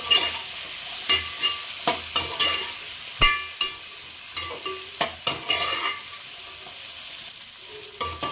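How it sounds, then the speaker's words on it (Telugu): Prawns fry in a pan for coconut-milk prawn biryani. A constant sizzle runs underneath repeated, rhythmic scraping and clinking from a stirring spoon. "మనము రొయ్యలు కూడా మంచిగా ఫ్రై అయ్యేలాగా ఫ్రై చేసుకోవాలి"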